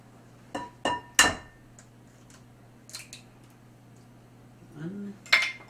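Eggs cracked into cake batter in a bowl, with sharp close taps and clinks against the rim in short bursts, quiet pauses between, and a faint brief voice.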